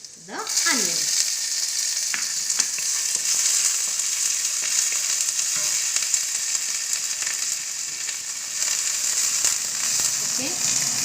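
Onion drops into hot oil already seasoned with dry red chili, panch phoron and bay leaf for an Assamese bamboo shoot curry, setting off a loud, close, continuous sizzle with crackling bursts and occasional stirring clinks, brief talk at the start.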